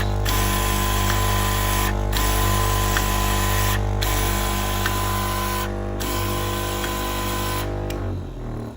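A Dayang CZD blade sharpening device runs a full sharpening cycle, a loud steady mechanical whir and grind that pauses briefly about every two seconds, then winds down at the end, with no talking.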